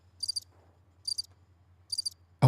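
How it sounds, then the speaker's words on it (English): Crickets chirping outdoors in three short, evenly spaced bursts over a low steady hum, with a brief loud knock at the very end; no talking. "We got crickets here."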